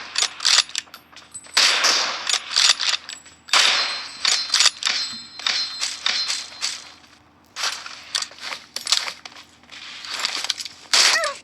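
Gunfire in a PUBG Mobile one-on-one match: sharp, clattering shots ring out in irregular bursts and single cracks, fairly loud and close, with short gaps between volleys.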